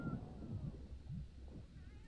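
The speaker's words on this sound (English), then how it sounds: "She just starts meowing and drowning" A pet cat in the pirate video game Sea of Thieves meows repeatedly while drowning, several faint, wavering mewls over a soft, low background wash.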